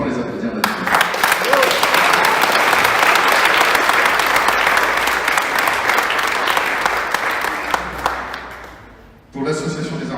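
Sustained, loud audience applause at a visual arts prize ceremony in La Rochelle, dense clapping that carries for about nine seconds before stopping abruptly, followed by a voice.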